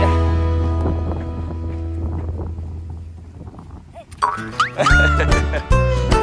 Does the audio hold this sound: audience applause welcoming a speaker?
no